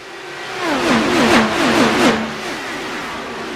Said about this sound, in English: it starts off with the Ford machine trying to battle out at the front of the field with Logan Edwards